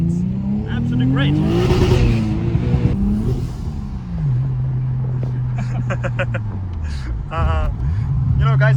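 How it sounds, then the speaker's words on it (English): A BMW E34 at a car meet in Kyrgyzstan revs its engine in rising and falling sweeps, loud and close, with several sharp bursts and talking over the sound. "I'm sitting in a very special BMW right now."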